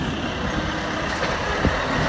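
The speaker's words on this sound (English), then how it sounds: "Giant truck" A giant truck passes on a street in Delft, the Netherlands, giving a loud, continuous rumbling roar that fills the whole moment with no voices.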